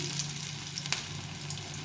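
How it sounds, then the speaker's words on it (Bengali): Cabbage pakoras fry in fish oil during a second frying, giving a soft, continuous sizzle with a single brief clink partway through. "একবার ভাজলাম এবার দ্বিতীয়বার ভাজছি"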